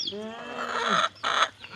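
A large farmyard rooster crows once nearby, a loud, drawn-out tonal call that breaks off briefly and resumes before fading.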